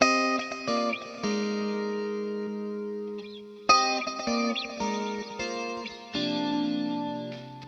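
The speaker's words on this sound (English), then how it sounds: "the chorus is between the dual delay and the glitz reverb" Electric guitar chords ring out with a shimmering, wavering chorus effect, placed between a dual delay and a reverb, played alone in a few sustained phrases with short pauses between them.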